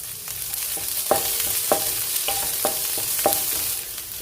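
Green chilies, curry leaves and fenugreek microgreens sauté in a pan with a steady sizzle, broken by several sharp scrapes and clinks of a spatula stirring at irregular intervals, close and without talk.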